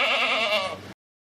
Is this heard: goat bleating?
yes